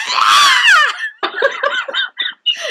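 A woman imitates happy, excited screaming with her voice: a long, high, wavering shriek, then a run of shorter squealing bursts, loud and close, with no other talk.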